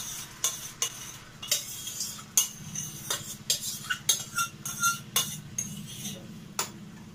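Strained tomato, garlic and ginger mixture going into a cooking pan for paneer butter masala, heard as a steady low sizzle with repeated metal spoon scrapes and clinks against the pan at an uneven rhythm.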